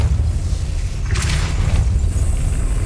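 Depulso spell cast in Hogwarts Legacy, a loud whooshing burst of force rising over a heavy, constant low rumble and fading back into it.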